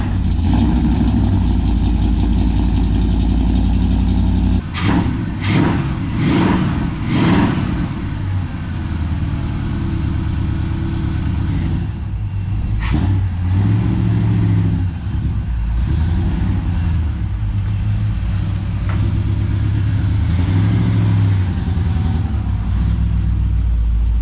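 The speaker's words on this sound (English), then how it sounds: "it's been sitting here idling for about 10 minutes now" A big-block V8 Plymouth engine idles steadily with a low, continuous rumble, punctuated by a few short revs or knocks partway through.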